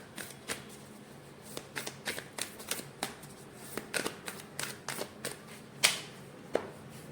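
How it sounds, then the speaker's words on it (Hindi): Oracle cards being shuffled by hand, a steady series of soft, crisp riffles and slaps, close and fairly quiet, with no talking. "ओरेकल कार्ड निकालते हैं आपके लिए।"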